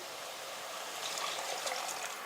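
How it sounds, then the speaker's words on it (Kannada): Water streams steadily into a pressure cooker pot of Uttara Karnataka saagu with fresh tur beans, a soft continuous trickle with no voices. "ಈಗ ಇದಕ್ಕೆ ನೀರು ಹಾಕ್ಕೋಬೇಕಾಗ್ತೈತೆ ರೀ."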